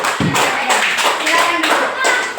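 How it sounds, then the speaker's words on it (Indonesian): Students in a classroom clap for a presenting group, a short run of fairly evenly spaced claps with a voice speaking over them. "Tepuk tangan untuk kelompok 2."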